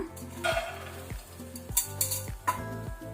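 Green gram rattles and clatters into a hot metal pan in several quick pours and shakes, with light sizzling and scraping between them.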